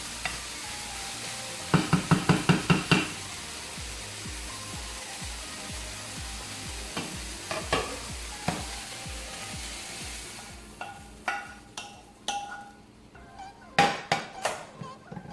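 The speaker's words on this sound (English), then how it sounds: "We're gonna give it a stir" A spoon stirs sautéed vegetables and golden raisins into wild rice in a pan, with soft scraping and a low sizzle under bursts of sharp rhythmic taps and knocks against the pot, alone with no voices.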